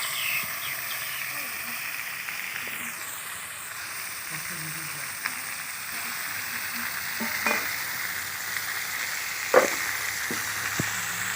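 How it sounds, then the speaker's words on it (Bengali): Spiced tangra fish sizzling and frying in a hot wok with onions, a low steady crackle and occasional stirring clinks and taps throughout. "এই মশলা মাখানো মাছগুলো আমি দিয়ে দিচ্ছি কড়ার মধ্যে"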